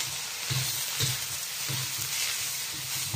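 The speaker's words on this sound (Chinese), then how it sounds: "锅里啊也不响啊，那我们给它这样的，响不响啊？" Chili peppers stir-frying in a hot wok, a continuous crackling sizzle with rhythmic scraping bursts roughly every half second as the food is tossed, close and fairly quiet.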